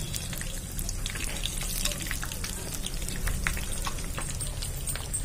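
Egg-coated pakoras fry in hot foamy oil, giving a steady, dense sizzle with scattered crackles and pops throughout, close and continuous with no talking.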